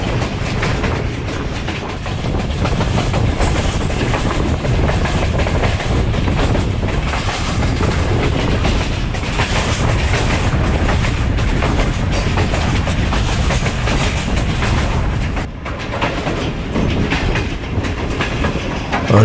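Aboard the Allama Iqbal Express between Sialkot and Lahore, the train runs through a station without stopping, giving a loud, steady roar of rolling wheels with clickety-clack and a brief dip near the end.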